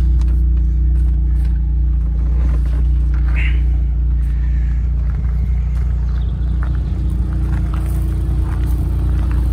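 A 2010 Lotus Elise SC idles and runs with a loud, continuous low rumble close by, its engine note holding steady with slight swells throughout.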